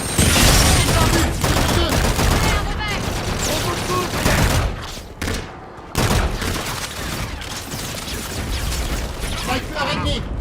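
Sustained automatic gunfire sounds from the video game Call of Duty: Infinite Warfare. The rapid, loud bursts rattle almost continuously, with a brief lull midway, layered with explosions and shouted voices.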